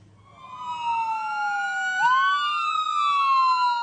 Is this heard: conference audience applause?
no